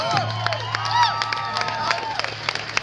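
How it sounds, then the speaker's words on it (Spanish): Dense crowd noise fills a packed rock club show, with cheering, whistles and shouts layered over steady clapping, loud and close throughout. "Fuerte aplauso, pero este para ustedes."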